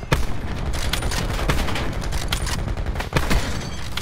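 Dense video-game gunfire: rapid, close, loud bursts of shots and sharp cracks fill the whole stretch, with a brief dip near the end before firing resumes.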